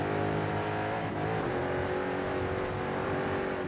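A Chevrolet Camaro in Forza Horizon 5 screams at high revs after a downshift, its engine note holding loud and steady with a slight pitch dip and recovery.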